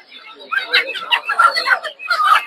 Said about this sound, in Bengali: এগুলো সব হচ্ছে দেশি মুরগির বাচ্চা